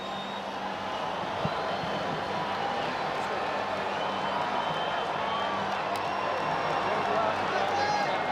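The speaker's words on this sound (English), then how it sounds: "to hear this crowd erupt like that" A big arena crowd roars and cheers after a knockout at a mixed martial arts fight, a dense, sustained wall of noise at steady loudness throughout, with no single voice standing out.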